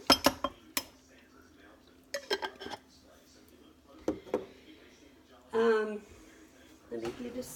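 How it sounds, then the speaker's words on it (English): A spoon is fetched from a kitchen drawer, with cutlery clinking and rattling in quick, close bursts separated by short quiet gaps. "Let me get a spoon."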